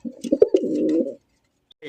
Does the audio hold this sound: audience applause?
no